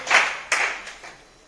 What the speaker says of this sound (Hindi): तो एक बार अपने लिए जोरदार क्लैपिंग मारेंगे साहब